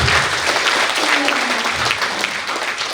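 Congregation clapping hands during a church worship service, a thick burst of applause from many people, loud at first and holding steady for a few seconds, with a faint voice underneath.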